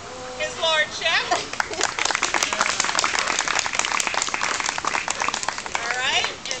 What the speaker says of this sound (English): We're gonna a round of applause for his lordship.